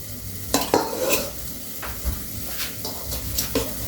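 Snakehead fish, a single large one, frying in a pan of hot oil, with steady sizzling and several sharp stirring or scraping clatters against the pan, close and fairly loud with no talking.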